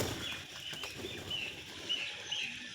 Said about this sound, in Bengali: একবার চলো বুনো পায়রাগুলোকে উড়িয়ে দিয়ে আসি